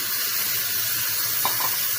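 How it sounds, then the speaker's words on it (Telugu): Water poured onto jaggery in a pan, a steady hissing wash of sound throughout, fairly loud and close, with no voices. "దీంట్లో కొద్దిగా వాటర్ వేయండి."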